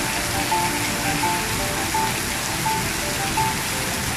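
Heavy rain pours down at the National Stadium in Singapore, a dense, loud, continuous hiss of drops on hard surfaces with a faint repeating tone in the background and no voices.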